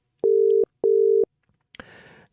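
Telephone ringing on a live call-in radio show: two loud, even electronic rings close up, each lasting about half a second, followed by a click and a burst of line noise as the call is picked up.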